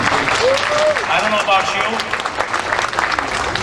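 An audience at a campaign kickoff event gives a round of applause, with bursts of clapping while someone speaks over it in a loud, echoing room.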